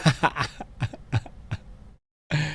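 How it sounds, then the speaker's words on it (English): A voice speaks briefly, then a few quick throaty coughs follow, close and moderately loud, before a short pause and another burst of sound. "I started to get a little cough"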